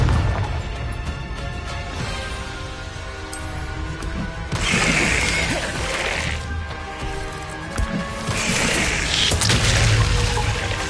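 Confringo curse blasts cast in the game Hogwarts Legacy, two bursts of crackling explosive noise rising out of busy combat sounds, each lasting a second or two.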